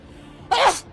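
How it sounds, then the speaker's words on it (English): A person sneezes once, sharp and close, preceded by a quiet intake of breath and followed by the start of another breathy sound. "Oh my god, I sneezed."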